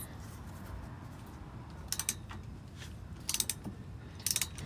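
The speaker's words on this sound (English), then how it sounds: "Taking the U-bolts loose." Wrench work loosening the U-bolts on a truck, with three short bursts of quick metallic ratcheting clicks over a steady low background rumble.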